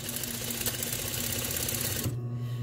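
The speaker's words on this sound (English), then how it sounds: "This is my straight stitch machine." An industrial straight stitch sewing machine runs fast through fabric in a steady rapid whir, close and continuous, then slows to a lower hum at the end.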